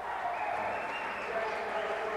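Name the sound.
crowd applauding at wrestling match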